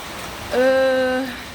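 Steady rain hisses in the background throughout, in Gabon, while a voice briefly cuts in over it.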